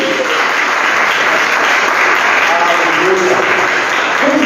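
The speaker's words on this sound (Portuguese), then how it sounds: "E as palmas louvam o nome de Deus." Church congregation clapping steadily in praise, a dense, loud, continuous wash of many hands that runs unbroken throughout, with faint voices mixed underneath.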